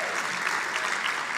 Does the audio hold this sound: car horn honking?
no